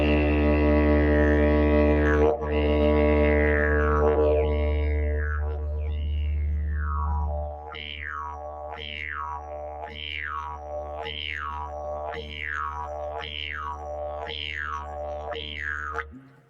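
A yidaki (didgeridoo) imitates a big red kangaroo hopping: a deep, steady drone first slides through shifting tones, then breaks into about nine evenly spaced, bouncing whoops that keep a springy rhythm over the continuous low hum.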